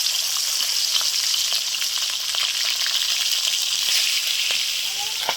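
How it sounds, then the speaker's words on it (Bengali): Tengra fish fry in hot oil in a wok with a loud, constant sizzle scattered with sharp crackles and pops, close up and with no voices. "কড়া গরম হয়ে গেছে, এই ট্যাংরা মাছগুলো দিয়ে দিলাম।"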